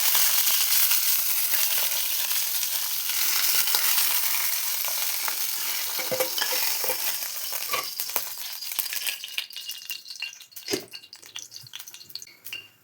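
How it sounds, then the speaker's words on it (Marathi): Steady hiss of eggplant frying in a little hot oil, with scattered crackles and pops growing sharper toward the end, plus a few light clinks. "तेल थोडंसं आणि वांग टाकून घेते"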